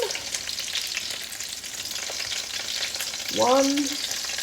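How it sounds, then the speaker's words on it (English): Sausages sizzle steadily in a hot frying pan, a dense crackling hiss running throughout, with a brief clatter near the end as one is flipped over. "I'm going to flip my sausages again"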